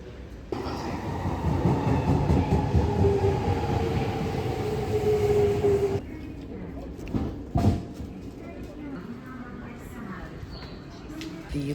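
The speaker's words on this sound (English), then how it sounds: "The local train dropped me off." A local train runs in Japan, a steady rumbling rail roll with a faint whine heard from nearby, which cuts off abruptly partway through, leaving quieter ambience with a few knocks.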